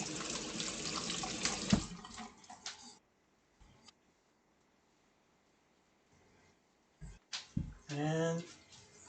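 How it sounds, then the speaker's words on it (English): Hands scrubbed with soap under a running kitchen tap, a loud rush of water at the start, then a quiet stretch with faint drips before water and handling noises return near the end. "Wash the hand again with soap."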